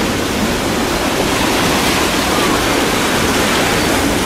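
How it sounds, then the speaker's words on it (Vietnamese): Rough sea churns around a fishing boat as a constant, loud broadband roar of waves and spray, steady from start to finish with no talk. "Bữa nay biển nó hơi động nha anh em,"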